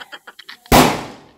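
A single firecracker bursts during Deepavali festivities in a hometown, a sharp loud bang that decays over a fraction of a second after some brief softer voice-like sounds.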